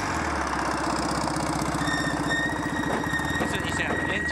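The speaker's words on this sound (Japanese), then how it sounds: "エンジン壊れた、多分音が変です。" A broken race car engine runs rough on a track at Tsukuba, a loud buzzing drone with a rapid uneven pulse and a thin whine rising over it, steady and close throughout.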